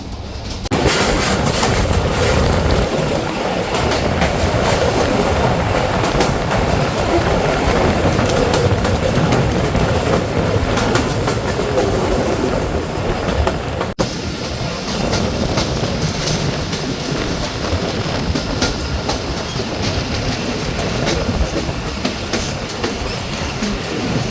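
A commuter train with very few passengers runs through rural countryside from Rohanpur toward Rajshahi, its steady rolling rumble and clickety-clack of wheels on rails loud and continuous from an onboard position, with no talk.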